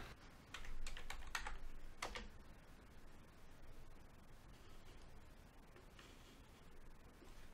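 Someone types a command on a computer keyboard while setting up a Raspberry Pi Zero, a quick cluster of close, crisp keystrokes followed by scattered lighter taps in a quiet room.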